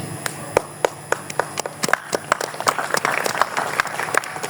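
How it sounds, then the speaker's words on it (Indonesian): At a prayer gathering for Palestine addressed by the Indonesian ambassador, a few people clap sparsely at first, each clap sharp and separate, before more join in a thicker burst of applause, with a voice faintly underneath. "Oke, tepuk tangan ngasih kode"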